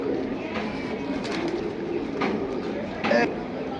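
Soft pigeon coos repeat a few times against a steady background murmur, fairly close and low in level.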